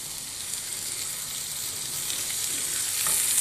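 Brinjal and lemon fry in a little oil, giving a dense, steady hiss of sizzling that grows slightly louder over a few seconds, close up and without any voices.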